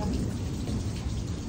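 Heavy rain pours down during a thunderstorm around a house, a dense, steady roar of falling water with a deep rumble of thunder underneath, close and unbroken throughout.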